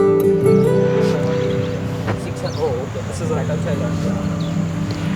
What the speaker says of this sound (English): Aircraft is on the roll and you can hear the engines very nicely